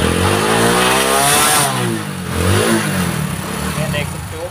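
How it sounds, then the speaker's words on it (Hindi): Motorcycle engine with a fault that pushes smoke from the silencer, revving loudly and close as the throttle is opened, with a strong rising pitch, a brief dip, then another rev. "जैसे मैं इसका थ्रोटल लेता हूँ"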